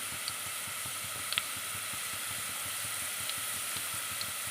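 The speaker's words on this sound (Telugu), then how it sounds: "ఇవన్నీ ఉల్లిపాయలు ఈ విధంగానే వేగాలి ఎక్కువ వేగకూడదు" Onions frying steadily in a pan, a continuous close sizzle with soft crackles and occasional small pops, no voices.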